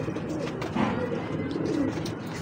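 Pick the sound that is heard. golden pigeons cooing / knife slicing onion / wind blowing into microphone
golden pigeons cooing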